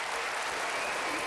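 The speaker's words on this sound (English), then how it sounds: "when they're applauding, stop, right?" Audience at a Republican presidential debate at Mesa Arts Center applauds, a steady, moderately loud clatter of many hands clapping together for about a second.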